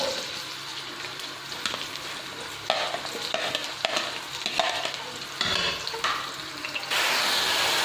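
Onions frying with ground cumin in a pan for yogurt chicken, a steady sizzle broken by repeated scraping strokes of a spoon, the hiss swelling louder near the end.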